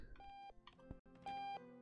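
Alarm beeps from the video game OctoDad, two sustained electronic tones of about a third of a second each, separated by a short gap and cut through by a thud, with no talk over them.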